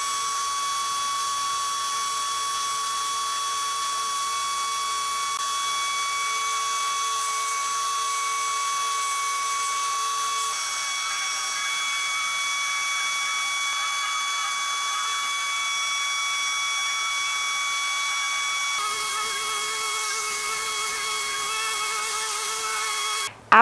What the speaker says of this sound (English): I come in with 150 grit sandpaper to remove all of the leftover stain.